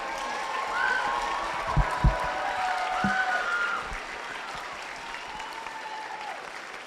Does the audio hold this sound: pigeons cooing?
no